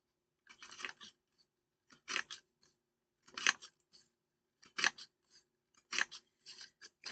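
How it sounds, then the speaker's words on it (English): Scissors snip through a strip of denim to cut leaf shapes for a stamped card, giving about six crisp, close cuts in short bursts separated by brief pauses, with no talking. "I'm just going to use a strip of that denim to cut out some leaves."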